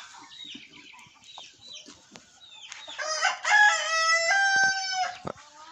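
Farmyard chickens cluck softly nearby, then an older rooster with developing spurs lets out a loud, drawn-out crow midway, amid scattered clucks and light rustling.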